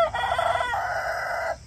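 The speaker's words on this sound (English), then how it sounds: "They don't just crow in the morning like some people think. They crow all day" A rooster crows loudly and close by in a single long call, a strong rising then sustained harmonic cry that cuts off cleanly after about a second and a half.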